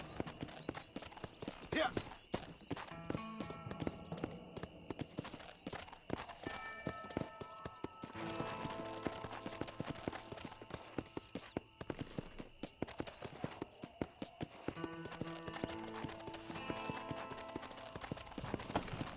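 Galloping horse hooves from the video game Red Dead Redemption drum in a steady rapid rhythm alongside game music and effects, with a brief spoken word.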